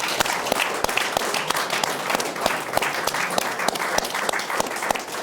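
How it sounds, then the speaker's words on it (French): Studio audience applauding on a French talk show set, a dense sustained wash of many hands clapping at steady loudness throughout, with no voices over it. "On vous applaudit bien fort."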